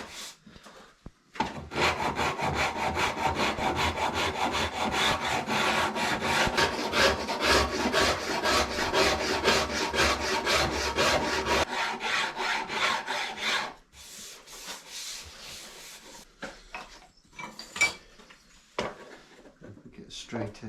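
A Shinto rasp, smooth side, works the small facets of a hand-carved wooden cup, giving a steady, close rasping scrape of dense back-and-forth strokes for about twelve seconds, then a few scattered light scrapes and taps.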